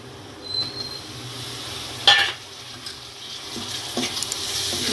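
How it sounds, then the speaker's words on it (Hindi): Chopped tomatoes fry with spices in a pan, a soft continuous sizzle with occasional stirring scrapes and a brief sharper clatter midway, no talking. "इसको मसाले के साथ भूनूंगी।"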